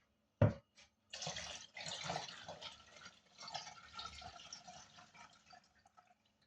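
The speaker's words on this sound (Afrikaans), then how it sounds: "kan ek hierdie water uitgooi" Rinse water is poured out of a bowl after rinsing chicken drumsticks, beginning with a sharp splash, then a faint, uneven trickle and spatter running for several seconds into a sink.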